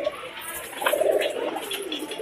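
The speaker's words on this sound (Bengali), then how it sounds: "আরও কিছু পায়রা এই যে দেখতে পাচ্ছেন" Pigeons at a pigeon seller's coop give low, soft cooing that swells in the second half over a steady background, fairly close and moderately loud.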